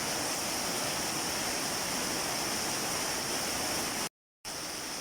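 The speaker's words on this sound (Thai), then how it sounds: "มาดูกันเด้อน้ำไหลลังคาหนึ่งเอ แรงแต่ลมไม่ค่อยมี" Steady, dense hiss of heavy rain pouring and running off a roof with little wind, loud and unbroken except for a brief dropout near the end.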